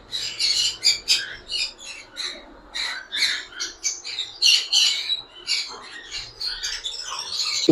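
Green-cheeked conures and other parrots squawking and chirping in a pet shop in Islamabad, many sharp repeated calls overlapping in an irregular stream, fairly close, with no talk.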